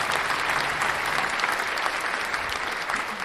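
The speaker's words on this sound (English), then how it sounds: "Give me a round of applause." An audience claps steadily for a performer at a live show, a dense patter of many hands sustained at even strength with no cheering or talk on top.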